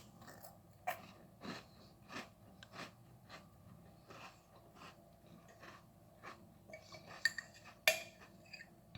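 Someone chews graham crackers spread with apple butter, close up, with a run of soft, irregular crunchy bites and mouth sounds, a few sharper clicks and clatters near the end, and no talking.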